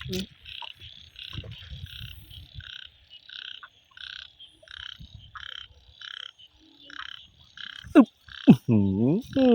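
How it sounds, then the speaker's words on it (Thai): Frogs croak after the first rain in repeated short pulses, several calling in a steady rhythm, with a louder, nearer croaking burst near the end. "กบฝนแรกนี่"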